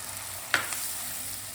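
Homemade rabri goes into a hot frying pan for malai paneer and is stirred, a single soft scrape of the spoon over a steady low sizzle, quiet and close.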